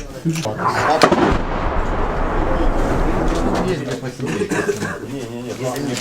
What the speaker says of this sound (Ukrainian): працює все-таки ствольна артилерія 152 калібр